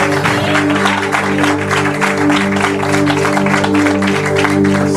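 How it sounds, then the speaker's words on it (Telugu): Church congregation clapping for the Lord at a Sunday service in Mahendra Hills, dense steady applause filling the room for several seconds without pause. "Let's give the Lord a clap."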